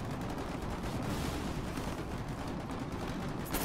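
Artillery fire in the Foxhole war game, a continuous dense rumble of guns and blasts that runs steadily throughout at moderate distance.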